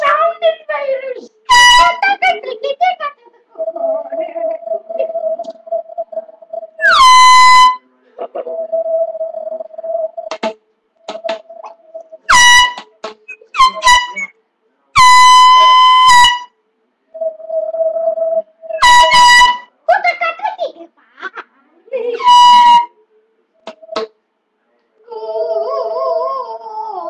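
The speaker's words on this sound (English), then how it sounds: "One of them has been reported with an air horn and one of those pipe things." Handheld air horn blasts in a street setting, several short loud bursts spaced irregularly between stretches of people talking and a steady pipe-like drone.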